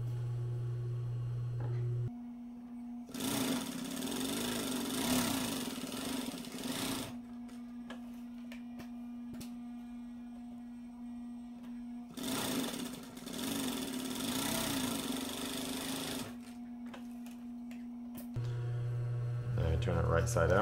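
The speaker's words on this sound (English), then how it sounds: "you're gonna sew down each edge about 1/4 inch from the edge" A sewing machine stitches down the fabric edges of shoulder pads for a chest rig, its motor whirring loud and steady in two long runs with a pause between, amid a quiet hum.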